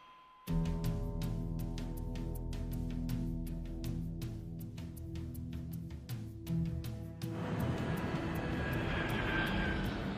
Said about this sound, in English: Copa Airlines Flight 201 takes off